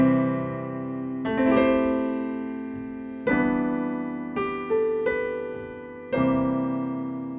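Piano playing a song in full four-note chords, a slow melody with several struck chords that each ring and decay, close and alone without talk.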